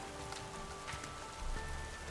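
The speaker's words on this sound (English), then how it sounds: "Only the sound of rain remains in the back alley." Steady rain falling in a dark back alley in the game Nikke, a continuous soft hiss of drops on hard surfaces with no voices, swelling slightly louder near the end.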